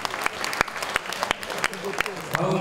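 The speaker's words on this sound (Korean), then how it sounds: "축사를 해주신 헤이르스님께도 큰 박수 부탁드리겠습니다" At a Buddhist inauguration ceremony, an audience claps loudly, with sharp individual claps standing out over a steady bed of applause.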